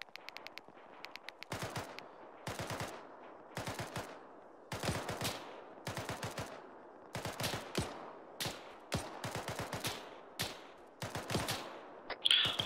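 A group opening fire on targets at long range: repeated bursts of rapid gunshots in clustered volleys separated by short pauses, fairly loud and outdoors.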